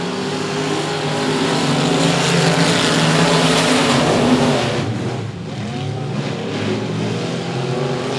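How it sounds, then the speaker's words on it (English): Race cars roar around a short-track speedway at a regular race program, engines screaming loudly and continuously as they throttle through a corner, with pitch sweeps as cars pass and a brief dip in volume partway through. "He's going to be quick to throttle up in the middle of the corner trying to get that inside line"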